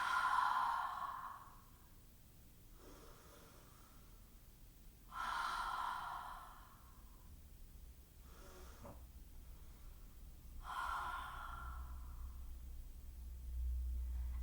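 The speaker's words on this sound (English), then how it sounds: "inhaling through the nose and a forceful exhale through the mouth." Three rounds of breathing during a chair yoga session, each a forceful whooshing exhale through the mouth followed by a quieter inhale through the nose, close and evenly spaced with no talk.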